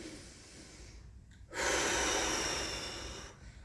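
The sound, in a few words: deep breath in during stretching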